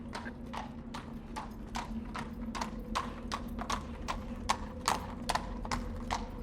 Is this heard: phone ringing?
no